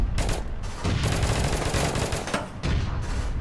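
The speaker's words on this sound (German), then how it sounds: "Irgendwas schießt auf mich." Bursts of rapid gunfire in the video game APB Reloaded crackle and boom in close succession, loud and dense, with several overlapping volleys of shots and no talk.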